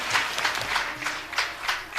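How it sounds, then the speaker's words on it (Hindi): Fairly faint clapping from a group at a Ramayana quiz competition, coming in rhythmic bursts rather than a continuous roar. "जोरदार तालियों से स्वागत करें।"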